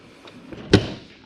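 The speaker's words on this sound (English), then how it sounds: "Close your exterior door" An RV exterior door on a Jayflight SLX 212QB travel trailer is pushed shut, giving a single close, solid thud-slam after a brief faint rattle.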